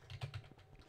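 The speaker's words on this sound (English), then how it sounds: "Now I can check and see if my Ethernet interface is correctly configured by typing in at the command prompt" Someone types a command on a laptop keyboard, producing a short, quiet burst of a few soft key clicks in quick succession.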